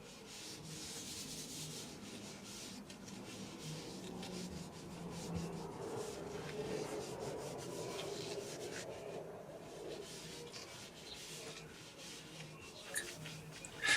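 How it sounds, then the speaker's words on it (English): A hand strokes latex sheeting flat onto a surface, outward from the center, making a continuous soft rubbing and brushing close by, quiet and steady with no speech. "As you unroll, smooth the sheeting into place with your free hand. Stroke outwards from the center of the sheeting to the sides."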